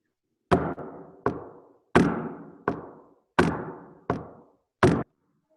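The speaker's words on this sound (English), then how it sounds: "I will knock on the piano" Seven sharp knocks on a piano's wooden body, loud and close, falling in a steady duple pattern with a brief ring-out after each strike.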